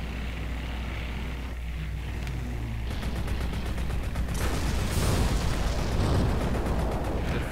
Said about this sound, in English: the upgraded coyote shoots dual napalm missile things